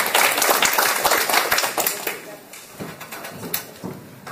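An audience at a lecture bursts into clapping, a short, lively patter of many hands that is loudest at first and then thins out, with voices talking over the tail end.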